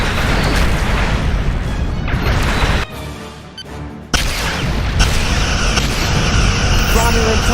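Heavy booming blasts and crashing weapon fire in a Star Trek Legacy space battle as a Romulan ship is destroyed, loud and continuous, with a brief lull partway before the rumbling roar resumes.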